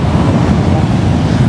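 Steady, loud roar of surf and gusting wind at Kuta beach, Bali, a continuous rumbling wash with heavy wind buffeting on the microphone.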